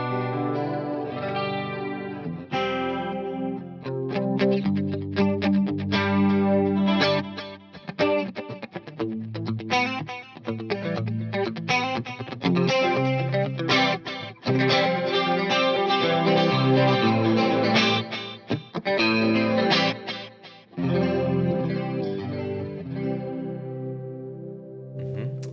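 Electric guitar runs through a 1980s Yamaha multi-effects processor, the played chords and notes carrying a warbly chorus-style modulation for a long continuous passage with no talking.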